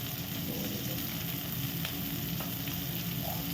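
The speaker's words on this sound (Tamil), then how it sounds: "இந்த வாசனை இஞ்சி பூண்டோட பச்சை வாசனை போகிற அளவுக்கு வதக்கிக்கலாம்" Green chillies and ginger garlic paste sauté in hot oil for egg rice, giving a constant, close, even sizzle with a few faint utensil taps.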